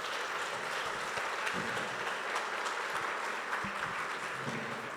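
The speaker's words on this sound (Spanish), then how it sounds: "Deles un fuerte aplauso," A church congregation applauds in a steady, dense wash of clapping that continues evenly throughout, heard from within the room at moderate distance.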